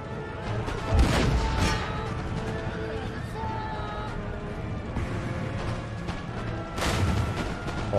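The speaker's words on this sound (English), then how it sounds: "Oh, the timing on those cannon rounds." Heavy booming cannon shots in Empire: Total War game audio, two loud blasts a few seconds apart over a constant rumble of battle noise and distant gunfire.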